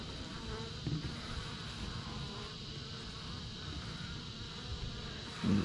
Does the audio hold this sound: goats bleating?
no